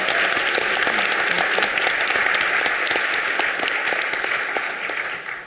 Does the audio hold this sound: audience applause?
yes